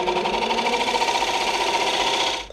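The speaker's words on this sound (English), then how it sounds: "This right here is a texturing tool," A woodturning texturing tool chatters against the foot of a spinning wooden bowl on a lathe, a fast, steady buzzing rattle, close and continuous, that stops abruptly at the end.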